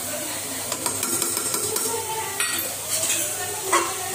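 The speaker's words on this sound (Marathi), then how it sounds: "त्यात टाकू आपण आता मिरची, लसूण, अद्रकची पेस्ट." Chili, garlic and ginger paste sizzles with onions in a hot pan for kheema, with close crackling under repeated scraping and clinking of a spoon stirring.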